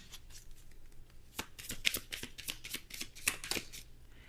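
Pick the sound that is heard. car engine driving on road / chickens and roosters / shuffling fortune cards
shuffling fortune cards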